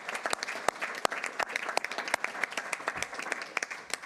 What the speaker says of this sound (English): Let's give them both another round of applause.